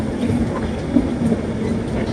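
Intercity express train from Viramgam Junction toward Ahmedabad running on rail track, a steady continuous rumble with a few faint clanks, heard from on board throughout.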